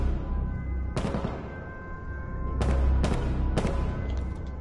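Gunfire in the battle game H1Z1: several sharp, loud shots cracking out at intervals, one early and then three in quicker succession, over a steady background hum with no talk.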